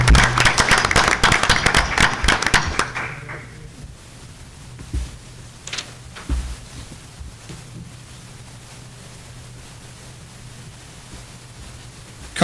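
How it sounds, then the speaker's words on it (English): A brief burst of audience applause at a school board meeting honoring a middle school student of the month, loud for about three seconds before fading into a quiet room hum with a few faint knocks. "We're going to clap for her"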